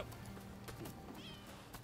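Cat meowing in the video game Rise of the Ronin, a couple of short mewing calls over steady game background sound, fairly quiet.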